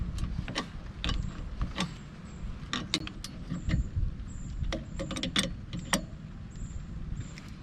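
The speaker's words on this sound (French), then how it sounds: "maintenant on va pouvoir serrer les deux écrous de la boule correctement" A wrench tightening the two nuts of a tow ball being fitted to a Fiat 500: repeated close metallic clicks and ratcheting taps over a low background rumble, no voices.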